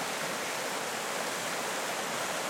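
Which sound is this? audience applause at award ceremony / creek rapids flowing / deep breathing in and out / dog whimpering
creek rapids flowing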